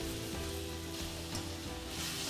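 Vegetables sizzle in a hot pan, a soft, even crackling hiss with faint patter like light rain, steady and close throughout with no voices.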